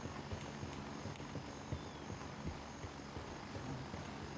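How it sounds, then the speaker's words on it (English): Military helicopter touching down in the video game Gray Zone Warfare, a steady loud rotor roar with faint rhythmic thumping throughout, continuous and without talk. "Chopper touching down."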